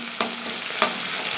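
Mustard seeds, dried chillies and crushed shallots temper in hot oil with a constant close sizzle, and two sharp stirring scrapes cut through it.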